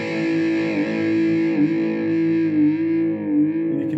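An electric guitar chord is strummed once and held as the tremolo arm is pushed down, the distorted tone sustaining and wavering in pitch for a few seconds, loud and alone.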